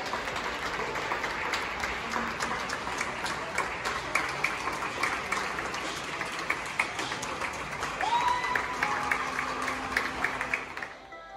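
Steady, dense applause from many hands, a continuous rustling wash of clapping for nurses and fellow frontline workers, holding evenly throughout before cutting off at the end.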